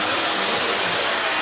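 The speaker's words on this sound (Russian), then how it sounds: "Теперь не выключай фен." A hair dryer blows steadily and loudly up close as hair is being styled, a constant broadband whoosh without pause or talking.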